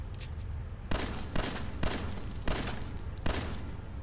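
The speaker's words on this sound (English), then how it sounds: "if you take a gun or a pistol or something, and you shoot it, it bleeds" Gunfire in the game Fallout 4, five sharp loud shots spaced roughly half a second apart over a steady background hum, with no talking.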